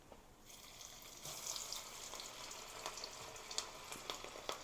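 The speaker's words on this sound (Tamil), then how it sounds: "மீன் வறுவலுக்கு மீன் வறுக்கிறோம்" Hilsa fish frying in a pan of hot oil, a faint, steady crackling sizzle with scattered sharper pops, heard up close with no talking.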